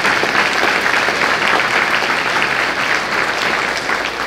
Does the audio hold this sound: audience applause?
yes